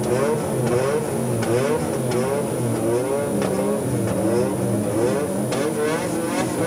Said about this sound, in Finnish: Kierrokset nousevat ja lähtö tapahtuu.